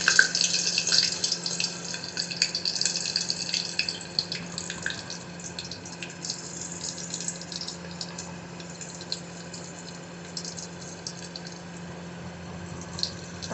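Green chillies sizzle in oil under a lid on a high gas flame, a continuous soft hiss with occasional crackles that starts a little stronger and gradually settles quieter.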